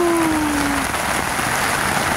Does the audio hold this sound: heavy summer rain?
yes